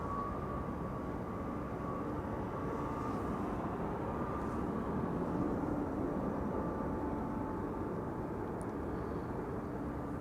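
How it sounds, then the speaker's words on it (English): Transavia Boeing 737 coming in to land at Amsterdam Schiphol, a steady broad jet roar holding at a constant moderate level with a faint engine whine throughout. "Coming in first is a Transavia 737."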